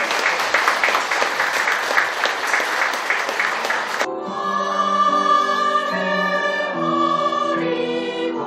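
Audience applause for Namjjok Bada Choir, a mixed choir of disabled and non-disabled singers, fills the first four seconds of a cultural salon event, then gives way to the choir's sustained singing.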